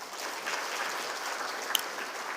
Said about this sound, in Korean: 이번에 수료하신 모든 분들을 향해서 우리 축하의 박수 하겠습니다